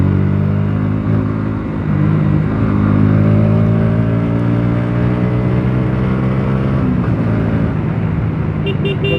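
Motorcycle engine droning steadily with shifting harmonic tones during a group ride through traffic, loud and close, under wind noise and surrounding road traffic.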